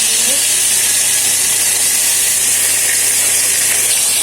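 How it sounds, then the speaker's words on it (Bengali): Fish frying in hot white oil, a loud, dense, continuous sizzle and steamy hiss with an unbroken roar close by, no speech. "মাছগুলো বেশি কড়া করে ভাজার দরকার"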